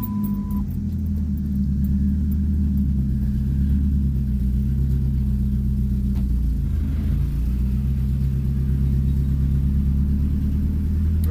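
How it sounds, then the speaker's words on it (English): A truck engine rumbles steadily while being driven up to park by a lake, a close, low droning hum with slight rises in revs and a brief beep at the start. "getting this truck up"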